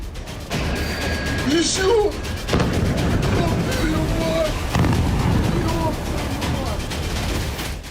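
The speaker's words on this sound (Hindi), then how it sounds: "जो धमाके हुए वो बिजली गिरने से हजारों गुना ज्यादा तेज थे, क्योंकि ये रूस की ICBM से निकले वॉरहेड से हुए धमाके थे" Explosions from Russian ICBM warheads with multiple independently targetable reentry vehicles: a series of loud, booming blasts and rumbling impacts, mixed with sharp whistling tones and a voice.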